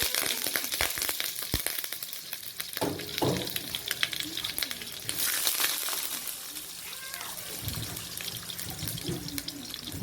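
Steady crackling sizzle of hotdogs frying in a hot pan, with occasional clinks and rustles of cooking nearby.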